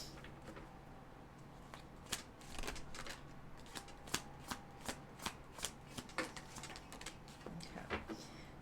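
Tarot cards being shuffled by hand for a career reading: a run of crisp riffling snaps and flutters, close and fairly quiet, repeating in bursts of several seconds over a faint steady hum.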